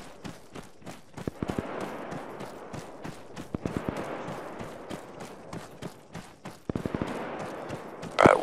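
Bursts of rapid gunfire in the video game Arma 3, short clustered volleys and single shots popping at a distance over a low ambient background.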